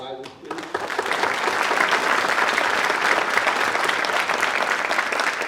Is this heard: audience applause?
yes